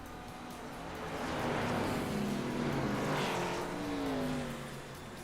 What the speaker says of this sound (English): I swear these cars always sound so good as they come through.